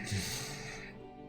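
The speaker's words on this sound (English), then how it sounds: "That was a yawn." A single close yawn from a man at his microphone during a game session, drawn out over about a second as a breathy exhale with a low voiced groan that trails off.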